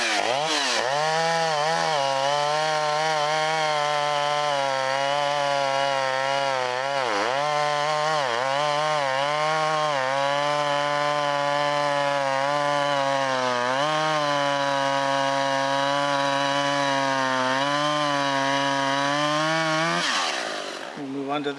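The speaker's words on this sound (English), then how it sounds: "This is a really ideal little saw for firewood cutting and brush removal" A small Stihl chainsaw cuts into a tree, its engine running loud and close for the whole stretch, revving up and dipping repeatedly as the chain bites, then fading out at the end.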